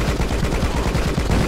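Rapid bursts of gunfire from the side-scrolling action game Rocketbirds: Hardboiled Chicken, dense and loud over a steady noisy bed.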